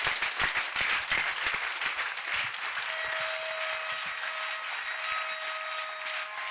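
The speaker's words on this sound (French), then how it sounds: "Acclame pour Jésus. Clap for Jesus." A congregation at an evening healing and deliverance crusade in Bafoussam claps together, with dense rhythmic hand claps that grow into a broad, even wash of applause from a large indoor crowd.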